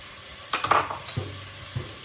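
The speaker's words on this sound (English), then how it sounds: "So I am going to saute these 3 ingredients in butter" Chopped onions, minced garlic and celery sautéing in butter, a low sizzle with a few scraping stirs and light clinks of a utensil against the pan, no voices.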